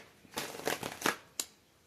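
Tarot cards being shuffled by hand, a few soft papery riffling bursts in quick succession, closing with one sharp snap, fairly close and alone with no voices.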